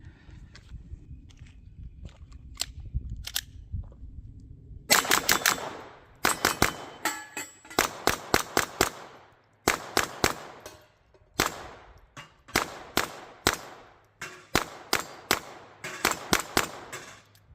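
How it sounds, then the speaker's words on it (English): Rapid .22 long rifle pistol shots hit bowling pins outdoors, sharp cracks fired in quick clusters of two to four with brief pauses between, loud and close and without talk. "Those previous ones I got by rapid firing towards the top."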